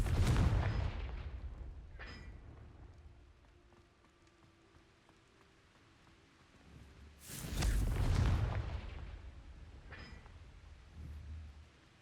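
A Confringo fire spell explodes in the Hogwarts Legacy video game, heavy booming blasts at the start and again midway, with smaller thuds between and a rumbling ambient bed.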